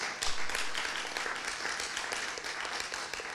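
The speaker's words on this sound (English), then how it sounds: "They definitely deserve a round of applause." Audience applause at a UNESCO creative clusters panel discussion in York, a dense, steady round of clapping from a crowd filling the room throughout.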